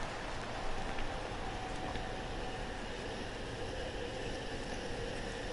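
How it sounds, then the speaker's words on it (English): Steady rain hiss falling over a baseball stadium in MLB The Show 17, a dense continuous wash of drops with no voices, holding evenly throughout. "As the rain starting to fall a little bit harder."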